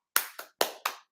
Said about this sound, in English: Everybody clap, clap.